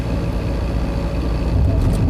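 Skoda Favorit car engine lugging at under 2,000 rpm in top gear while climbing a hill, a steady low droning rumble with road noise heard from inside the cabin, continuous and fairly loud with no talk.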